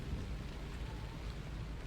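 Steady rain in the Hitman: Contracts video game, a continuous soft hiss of falling water with a low rumble beneath, faint and unbroken.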